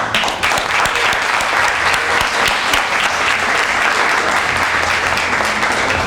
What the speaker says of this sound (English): And I think he deserves a round of applause.